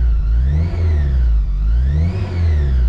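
Supercharged Honda S2000 fitted with a seven-year-old Magnaflow exhaust, revving on a lift in smooth rising and falling sweeps, with a deep steady exhaust drone close by.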